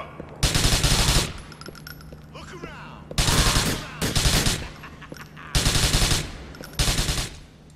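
Bursts of automatic gunfire from the video game GTA IV, loud rapid volleys of roughly a second each repeating in five clusters with short quieter gaps, some voices and game sounds in between.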